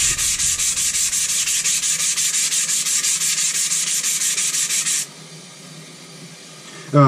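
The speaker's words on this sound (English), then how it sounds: "we're going to take the 200 grit side, and we're just going to dress both sides of the stone" Harbor Freight diamond block rubbed back and forth on the 200 grit side of a soapy Norton Crystolon sharpening stone, a rhythmic gritty scraping of rapid, even strokes that stops near the end, leaving a quieter hiss.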